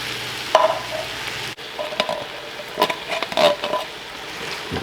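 Chili with onions and tomato being stirred in a pot, close scraping and clinking of the spoon over a soft sizzle, with a brief pause partway through.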